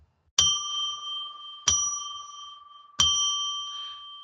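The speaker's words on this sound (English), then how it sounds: "I will ring a bell now to declare sacred space." Three clear strikes of a small ritual bell, each sharp onset ringing out into a long, bright, sustained tone, evenly spaced and close, with silence between.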